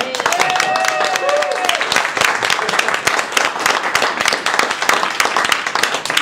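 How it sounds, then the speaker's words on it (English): A room of people at a Toastmasters Christmas party meeting applauds steadily, a dense close wash of clapping lasting throughout, with a few voices mixed in at the start. "I was just waiting for the applause"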